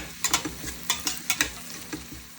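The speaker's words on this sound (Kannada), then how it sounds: "ಅರಿಶಿನ ಹಾಕ್ಕೊಂಡು ಮಿಕ್ಸ್ ಮಾಡೋಣ." Onions with turmeric frying in a pan as they are stirred, a quiet sizzle broken by a series of scraping, clacking strokes of a utensil against the pan, close and with no speech.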